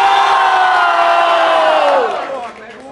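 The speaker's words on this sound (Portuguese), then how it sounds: "Barulho, quem gostou das rimas de Vicky?" Audience at a rap battle final in Brazil roaring and shouting in approval, a dense, loud wall of crowd noise that holds for two seconds, then drops off abruptly.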